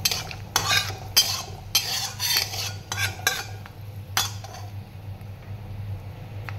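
Dry chilli, cardamom, clove and cinnamon tempering in hot oil, heard as a series of sharp scraping stirs and utensil clinks over a steady low background, with only faint sizzle.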